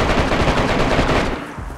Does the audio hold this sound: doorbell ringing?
no